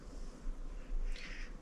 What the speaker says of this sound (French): Donc voilà mon chat.